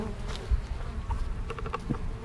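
Honey bees buzz continuously around an opened hive during a winter inspection of the bottom box, a close, steady insect drone with no talking.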